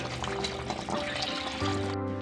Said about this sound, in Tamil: தண்ணி ஊற்றி நல்லா மிக்ஸ் பண்ணி விட்டுருங்க.